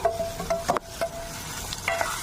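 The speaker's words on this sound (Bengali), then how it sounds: "আমি আলুর সাথে কষিয়ে নেবো মশলাটা। ভালো করে কষিয়ে নিচ্ছি।" Spice paste sautéed with potatoes and fried eggplant in a pan, a close sizzle broken by a few quick scrapes and clinks of a spoon stirring.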